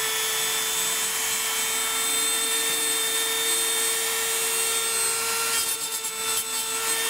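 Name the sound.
deburring metal tubing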